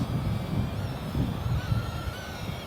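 Breezy wind blows outdoors during a mini quadcopter flight, a JXD 515W, producing gusty rumbling buffeting against the microphone with faint whine above, no talking.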